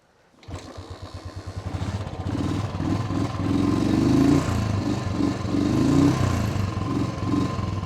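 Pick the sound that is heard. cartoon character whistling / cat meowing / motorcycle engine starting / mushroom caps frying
motorcycle engine starting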